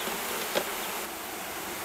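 Honey bees buzzing as they are hived from packages into a hive with built comb, a steady dense hum with one brief closer buzz passing by, and no voices.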